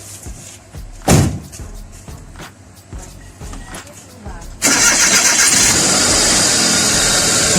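A car engine cranks and catches after a tensioner bearing replacement, then settles into a loud, steady idle close by. It is preceded by a sharp clunk and some handling noises, with a voice talking earlier.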